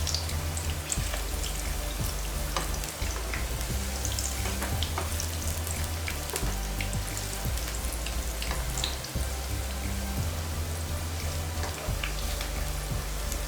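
Egg bajji, eggs coated in gram flour batter, sizzles steadily in hot oil over a low flame, a continuous crackling fry punctuated by sharper pops, close and loud with no voices.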